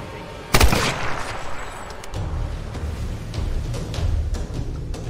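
Gunfire in the Tomb Raider video game: one sharp, loud close shot, then a spell of quieter rattling shots and rumble trailing through the scene.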